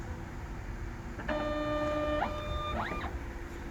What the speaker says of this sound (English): The light will start flashing and the tags will feed out.